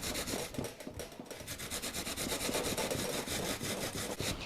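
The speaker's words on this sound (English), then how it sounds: "I'm going to chop it up really fine on the box grater" An onion rubbed up and down a box grater, giving a steady run of rhythmic rasping strokes, close and moderately quiet, with no talking.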